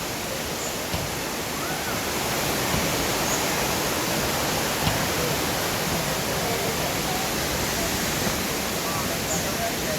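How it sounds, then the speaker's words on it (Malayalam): Thusharagiri waterfall pours in a steady, even roar of rushing water, a continuous hiss that holds unchanged from start to finish. "ഇവിടെ വാട്ടർഫാൾസ് ഇവിടെ നിന്ന് ഒന്നും കൂടി കാണാൻ നമുക്കിതാ."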